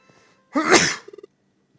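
A single loud, close sneeze bursts out after a brief intake of breath, followed by a quick run of small clicking sounds, then silence.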